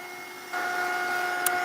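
A handheld heat tool blowing over craft paint to dry it, a steady whirring hiss that rises in strength partway through and holds evenly, close and fairly quiet with no talk.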